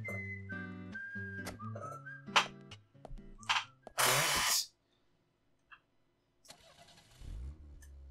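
A car in the video game Deadly Premonition starts up after a run of tonal, whistling sounds and sharp bursts, its engine catching with a low rumble near the end; nobody speaks.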